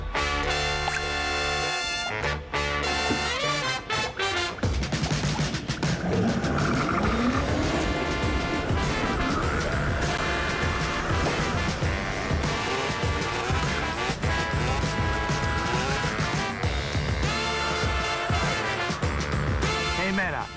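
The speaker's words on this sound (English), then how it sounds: "We are here live at the track. Everybody is ready to race" Race cars roar around a track at a live event, a dense, loud wash of engines with tire squeal and skidding, continuous for about twenty seconds with voices mixed in.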